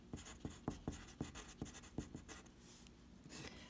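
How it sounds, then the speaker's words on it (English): Marker or chalk writing on a classroom board: a quick series of short squeaky strokes and taps, close and fairly quiet, with no talking. "I can't talk while I write"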